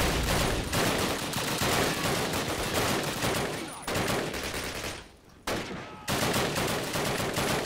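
Sustained, dense gunfire in Call of Duty rattles almost without a break, with a short lull near the five-second mark before the shooting resumes loudly.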